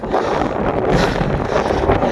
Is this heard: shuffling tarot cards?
no